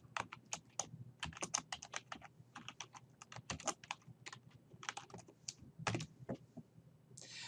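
Fingers typing on a computer keyboard while entering HTML code in Notepad++, a rapid irregular run of crisp clicking keystrokes with brief pauses, close and clear, no talking.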